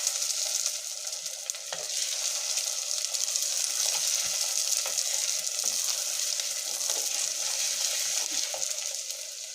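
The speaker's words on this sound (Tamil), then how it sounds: "ஒரு 2 நிமிஷம் வதக்கிக்கலாம் பூண்டை" Garlic cloves frying in oil in a pan for a fish curry give off a loud, steady, close sizzle with small crackles and occasional stirring, no voices.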